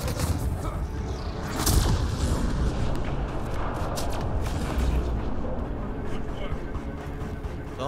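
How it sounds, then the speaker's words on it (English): Explosions and gunfire ring out in a Mass Effect Andromeda battle, with scattered booms and sharp cracks over a constant low rumble and a voice heard at times. "So much violence and explosion, the game lagged from it."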